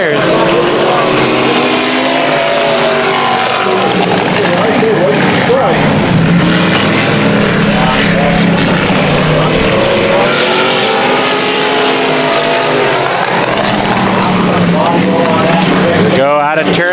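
Race cars roar around the Bakersfield Speedway dirt oval during a heat race, one spinning low while burning its tires, their engines loud and continuous under steady announcer commentary.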